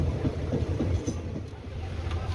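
A Shalimar to Digha passenger train runs along the rails, giving a steady low rumble with faint rhythmic wheel clatter throughout, moderately loud and continuous.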